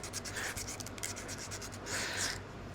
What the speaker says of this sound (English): we're just going to give these tubes a little tooth, which just involves a little sandpaper